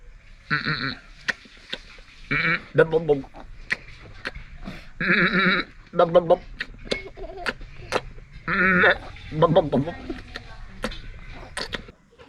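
A man imitates a suckling goat kid with his voice, giving repeated short nasal bleats in several bursts with brief pauses.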